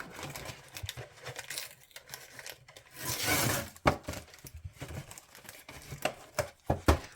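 Close, quiet crinkling and crackling as glued plastic is pulled off a card display box, with a longer tearing peel in the middle and sharp snaps toward the end.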